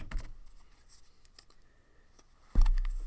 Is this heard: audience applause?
no